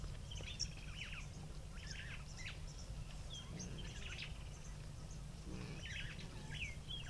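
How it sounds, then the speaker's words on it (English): Woodland kingfisher and oxpeckers calling outdoors in the bush: repeated faint chirps, trills and twittering calls scattered over a steady low background rumble, fairly distant. "The woodland kingfisher in the background. Lots of sounds of the oxpeckers."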